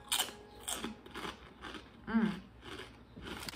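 Crunching bites of a sweet chili flavored snack, a few crisp chews spread across a few seconds, close and moderately loud, with a short murmur of appreciation from the eater.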